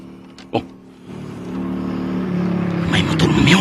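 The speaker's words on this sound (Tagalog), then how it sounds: "May motor miyunong." A motorcycle engine builds from about one second into a steady harmonic drone that grows louder as it draws near, with a sharp knock early on and brief noisy bursts near the end.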